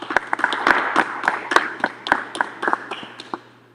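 Sparse, scattered claps for graduating seniors at a senior celebration, a handful of distinct hand claps sounding close and separate rather than a full crowd, thinning out toward the end.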